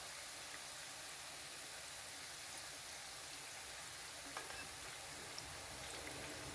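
Chebakia dough pastries frying in hot oil while being stirred, a steady dense sizzle that stays close and even throughout, with a few faint clinks near the end.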